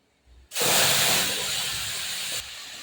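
Onion and garlic paste hitting hot oil in a pan for a prawn malai curry, bursting into a sudden loud, close hissing sizzle that holds steady for about two seconds before easing slightly.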